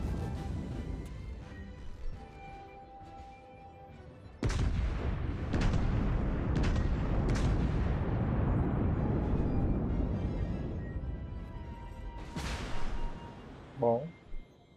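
Warship Fuso in World of Warships firing its main guns: several heavy booming salvos with a long rumbling decay, the first cluster loud and close, another blast near the end, over low game ambience.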